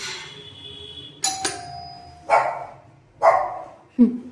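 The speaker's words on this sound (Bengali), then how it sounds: "কলিং বেল দিই।" An electronic calling-bell doorbell at a home's front door plays a short chime, followed by several sharp dog barks spaced apart indoors.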